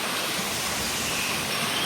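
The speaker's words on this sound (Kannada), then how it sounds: "ಇಲ್ಲೂ ನೀರು ಹರಿತಾ ಇದೆ." A forest stream runs near the Netravati river's source, giving an even, continuous broadband wash of flowing water for about two seconds, moderately close, with no talking.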